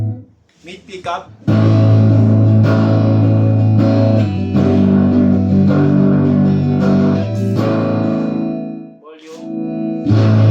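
An electric guitar rings out on its middle pickup, loud distorted chords and sustained notes with effects and echo filling the space, opening with a few short plucks before the full strummed sound swells and fades.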